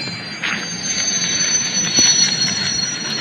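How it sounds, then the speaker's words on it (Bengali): A train pulls into a station in the Indian Bike Driving 3D video game, giving a steady rumble and squealing wheels with a high metallic whine, loudest near the middle. "হ্যাঁ, ওই যে একটা ট্রেন আসছে, আমরা ওইটাতে করে যাবো আমাদের গ্রামের বাড়ি।"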